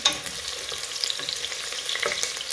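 Aromatics simmering in oil in a pan for a green banana (matooke) and amaranth dish, a steady soft frying hiss with faint stirring scrapes throughout, no voices.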